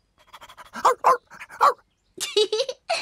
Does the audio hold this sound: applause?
no